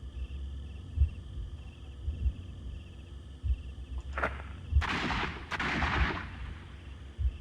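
A gunshot in the Sherlock Holmes: Crimes & Punishments detective game, two sharp bursts near the end over a low steady background hum, with a fainter crack just before them.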